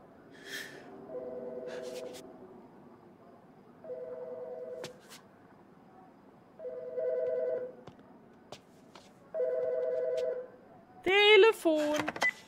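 A telephone ringing in the narrative video game As Dusk Falls, sounding four evenly spaced electronic rings of about a second each with pauses between them, followed by a brief burst of other game sound at the end.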